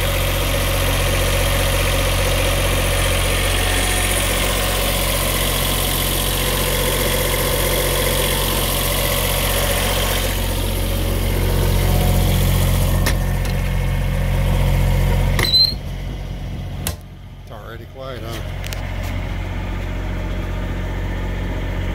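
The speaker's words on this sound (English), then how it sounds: "this particular generator isolation is pretty daggone quiet compared to many that have been heard, so we'll let you decide" A diesel generator runs steadily inside a 1965 GM 4106 bus conversion, a low, even idling hum with mechanical vibration throughout, quieter and thinner toward the end with a few faint clicks.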